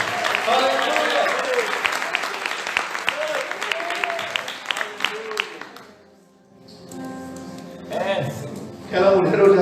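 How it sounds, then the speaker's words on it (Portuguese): A church congregation claps steadily during a service, a dense round of applause lasting several seconds before fading; the hall goes quiet briefly, then louder sound returns near the end. "Crê para Jesus, pode aplaudir mais forte"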